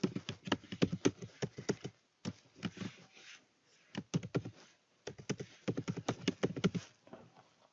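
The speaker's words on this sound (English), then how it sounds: "I'm gonna type in my AOL email address." Computer keyboard keys tapped in quick irregular bursts with short pauses, close and clear, as an email address is typed in.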